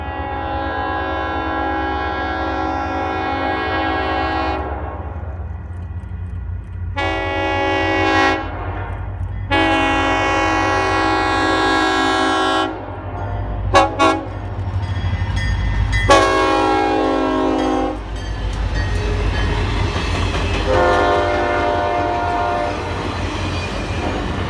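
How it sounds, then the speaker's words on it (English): A Pan Am Railways wreck train heads west through Shirley, Massachusetts, sounding loud, repeated horn blasts over the heavy rumble and clatter of the passing locomotive and cars. "The Pan Am wreck train heads west through Shirley,"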